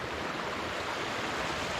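A waterfall in Tioga State Forest roars as a steady, dense wash of falling water, fairly close and continuous, with no voices.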